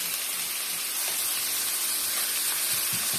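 Minced meat goes into a pan of green beans, and a steady close hiss of sizzling frying fills the pan, loud and continuous with no voices.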